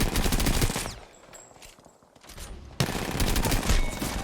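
Rapid R-99 submachine gun bursts in Apex Legends, dense close fire that breaks off for a moment and then resumes at full volume.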